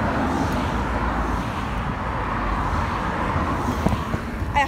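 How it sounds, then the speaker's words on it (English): Cars drive past on a road during a bike ride, a continuous rumbling roar of traffic close by with a little wind noise, no voices. "I have to wait till the cars go past so you guys can hear me"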